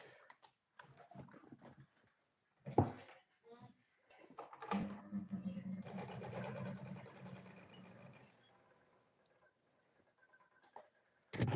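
A sewing machine stitching a lunch bag, one steady run of a few seconds mid-way, with clicks and handling knocks before and after, close and fairly quiet.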